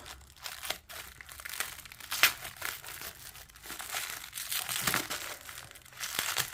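Crinkly wrapping torn and crumpled off a Mahogany Tarot card deck, close, irregular rustling and crackling bursts with sharper tears, no voices.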